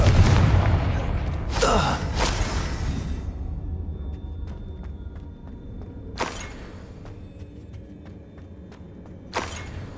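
A Confringo fire-blast spell explodes in the Hogwarts Legacy wizarding game: a loud booming burst opens, a second blast follows around two seconds in, and sharper impacts land later amid quieter magical ambience.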